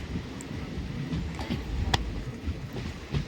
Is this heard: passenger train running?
yes